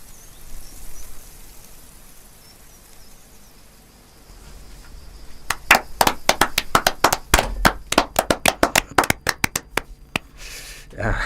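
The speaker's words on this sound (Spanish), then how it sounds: "Después de escuchar un cuento, aplaudimos." Audience claps after a story is told at a celebration of Carlos Maggi's life, starting with quiet room tone, then sharp, uneven, somewhat clumsy claps that thicken into a loose patter before trailing off.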